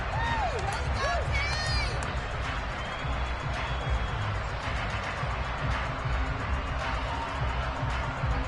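A stadium crowd roars steadily in an EA Sports Madden football game during a tied late-game third down, a dense continuous din with whistles and a commentator talking over it.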